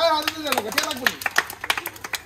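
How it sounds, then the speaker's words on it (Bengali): At a prize-giving for children's games, a few people clap in loose, uneven bursts while a voice speaks over the scattered claps. "হাততালি হবে"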